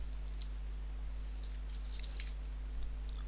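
Faint, scattered clicks of keys being typed on a keyboard over a steady electrical hum, with no talking.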